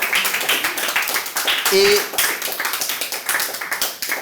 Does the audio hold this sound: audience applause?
yes